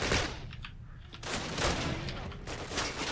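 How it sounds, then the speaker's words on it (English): Gunfire in Call of Duty during a mission with a tank nearby: several bursts of rapid shots in quick succession, loud and close, with brief gaps between volleys. "Where are you guys shooting at?"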